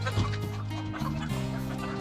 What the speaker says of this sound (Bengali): আর ওই পাশটা হচ্ছে দেশি মুরগির শেড